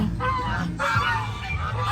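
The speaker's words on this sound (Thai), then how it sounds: "ขอดูพี่เป็ดก่อนนะครับเป็ดเยอะมาก ๆ เลย" A flock of ducks or geese at a lotus-viewing cafe in Thailand, honking and quacking in busy overlapping calls, fairly close and continuous with no talk over them.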